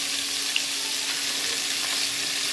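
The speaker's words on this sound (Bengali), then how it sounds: "এই সমস্ত সবজিগুলো ভেজে নেব।" Mixed vegetables of potato, carrot, capsicum, cauliflower and beans fry in a pan with a steady, even sizzle, fairly quiet, with one small tap and no talking.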